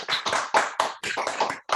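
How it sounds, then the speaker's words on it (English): Clapping from a group of people, dense and close, rising in quick bursts with short gaps between them. "I want everybody to join me in a big applause to Dr. Jiang as our thanks."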